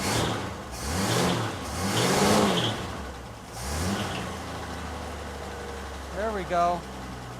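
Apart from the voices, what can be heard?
1963 Econoline pickup engine revving and idling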